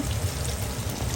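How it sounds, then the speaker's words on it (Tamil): Rinse water poured from a mixer jar into a cooking pan while making ginger pachadi, a steady, close liquid pour with a low rushing body that runs continuously for about a second. "மிக்சியில் இருக்கிறத வந்து கொஞ்சம் தண்ணி விட்டு அலசி அதையும் போட்டுட்டிங்கன்னா"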